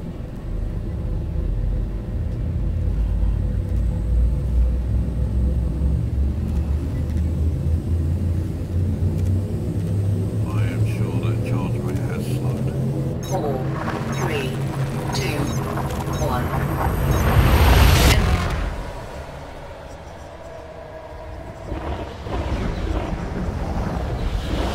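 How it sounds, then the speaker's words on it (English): A spaceship's frame shift drive charges in Elite: Dangerous, a deep rumble under rising, warbling tones that build over several seconds to a loud surge, then cut to a softer hum, with talking over it. "Drive charging."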